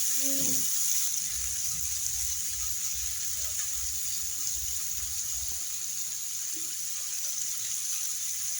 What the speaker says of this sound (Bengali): এবার আমি শাসলিকগুলি একেবারে লো হিটে ভেজে নেব।